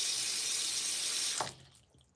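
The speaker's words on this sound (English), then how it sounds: "I push down, water goes away." Water draining from a kitchen sink: a steady close rushing flow that cuts off abruptly with a gurgle near the end, leaving a faint trickle.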